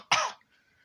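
One short, harsh cough bursts out near the microphone and fades within a fraction of a second, leaving near silence.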